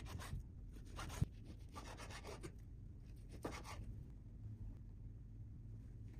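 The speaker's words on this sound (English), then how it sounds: "Cut the steak into strips." A knife draws through sirloin steak on a board, cutting it into strips with soft close scraping strokes and one sharp knock, then quieter rubbing.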